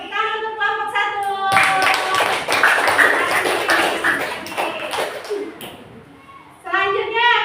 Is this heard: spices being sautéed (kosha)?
no